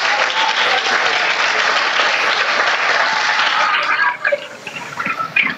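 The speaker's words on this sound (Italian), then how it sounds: "con un grande applauso da tutti noi" A school audience applauds for two classes at a space-themed project event: dense, loud clapping that holds steady, then thins and fades toward the end.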